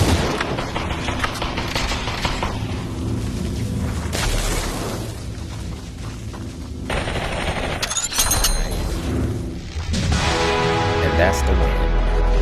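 Gunfire in the video game Population: One, bursts of rapid automatic shots and heavier booms in close succession, loud and dense, with voices talking over the action.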